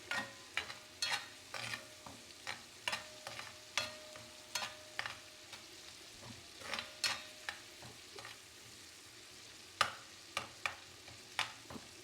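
Tomatoes frying in a pan for egg fried rice, stirred with a spatula in a steady series of sharp scraping knocks over a quiet sizzle.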